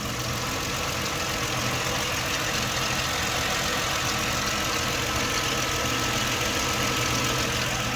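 The 4.0-litre engine of a 2006 Ford Explorer idling steadily, a constant low mechanical hum with no change in pace and no talking.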